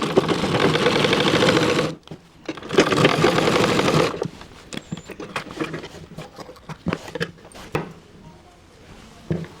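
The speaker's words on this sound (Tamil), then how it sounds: "ப்ரெஸ் தையல் போடுறோம்." A sewing machine press-stitches a pant seam in two quick bursts of rapid whirring, each about two seconds, followed by scattered clicks and fabric handling noises, close up with no talking.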